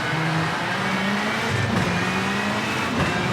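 Rally car in the V-Rally 4 racing game, engine droning steadily close up with pitch shifts as the car is thrown through a corner, plus faint tire scrubbing throughout.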